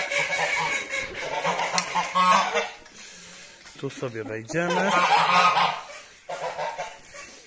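Geese and ducks in a henhouse honk loudly and repeatedly, close and overlapping, with someone speaking briefly among the calls.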